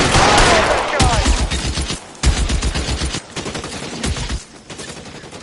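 Gunfire in the L.A. Noire video game, rapid bursts of shots and rattling automatic fire in several loud clusters separated by brief pauses, close and sharp.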